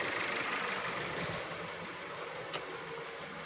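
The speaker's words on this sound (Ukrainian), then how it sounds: "Двигун рівномірно працює, не ковбасить його." A 2017 Ford Connect 2.5 petrol engine idles steadily with the air conditioning off, a smooth even hum with no surging, close and moderately loud, and no voices over it.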